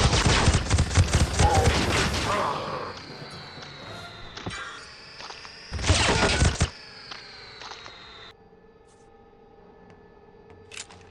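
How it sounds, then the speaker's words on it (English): A minigun in a dinosaur-hunting video game lets off loud, rapid bursts of fire, with a long sustained stream at the start, a shorter burst midway, and lingering mechanical whine and hum between them. "Too bad for him, I still got minigun ammo."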